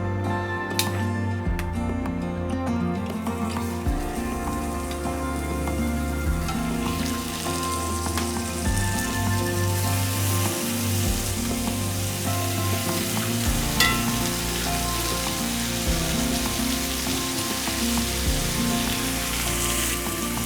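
Pork sears in a hot pan, a loud, steady, close sizzle and crackle that runs unbroken throughout with no talk.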